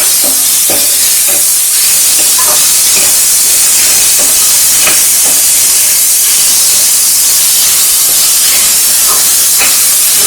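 Onion sizzling in hot oil in a frying pan while chicken keema methi is being cooked, a loud steady hiss with small crackling pops throughout.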